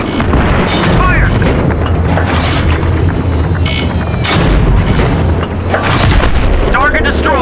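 Tank cannon fire and heavy explosions in the Battlefield 3 Thunder Run mission, loud booming blasts and rumbling detonations layered with shouted battlefield radio voices.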